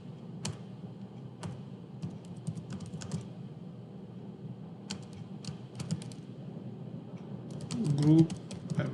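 Computer keyboard keys clack in short bursts and scattered single taps, close and moderately loud, with someone speaking softly underneath.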